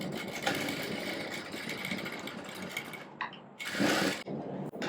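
A domestic sewing machine runs steadily while stitching a blouse front, a dense continuous mechanical whir that halts briefly near the end, then surges back for a short burst before stopping.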